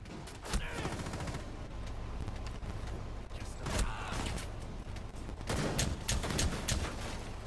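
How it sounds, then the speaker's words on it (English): Rapid bursts of automatic gunfire in the tactical shooter Rainbow Six Siege, several loud volleys of overlapping shots with brief gaps, close and sharp, mixed with in-game mechanical clatter. "Somebody's shooting at me."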